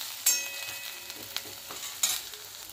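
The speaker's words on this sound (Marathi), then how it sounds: "ग्रेव्ही छान तेल सुटेपर्यंत भाजून घ्यायची आहे।" Masala gravy frying in oil for a drumstick and potato curry, with a soft sizzle broken by sharp spoon scrapes and stirring clatter at close range, two loud strokes standing out.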